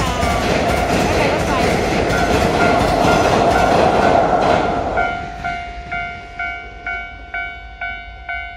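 A train in Japan rumbles past loudly at close range. After about five seconds the roar thins into a regular clickety-clack of wheels over rail joints, fading as the cars pull away.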